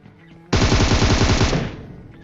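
Rapid automatic gunfire from a team shooting in PUBG Mobile, a loud dense burst of about a second that cuts in suddenly and then tails off into quieter background game sound.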